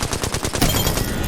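Rapid automatic fire from a Flatline rifle in a video game, a dense burst of shots, loud and close, with no talk over it.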